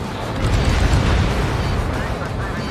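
Bombs dropped from a fighter jet in Ace Combat 7 explode in a dense, continuous low rumble of blasts that stays loud and steady throughout, with radio chatter from the mission around it.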